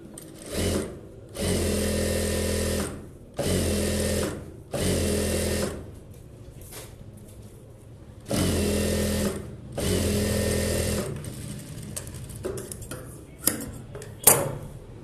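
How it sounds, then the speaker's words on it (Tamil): A sewing machine stitches a bridal blouse in several bursts of rapid, steady whirring separated by short pauses, close and fairly loud, with faint handling clicks near the end. "பட்டியை மடித்து சும்மா ரஃப்பாக தையல் போட்டுட்டு"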